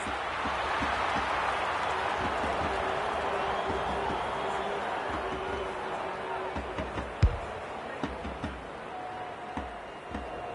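A stadium crowd in the AFL 26 football video game roars in a sustained wash of cheering that slowly eases off. A commentator's voice runs underneath, and a few scattered thuds come near the end.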